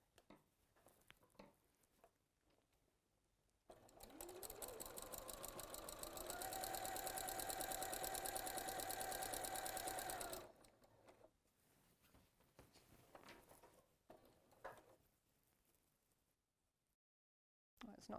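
A sewing machine stitches quilt seams in one steady mechanical run of about seven seconds, loud and close with a fast even whir and a rising motor tone. Quieter handling sounds come before and after.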